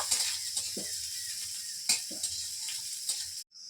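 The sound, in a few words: onions frying until reddish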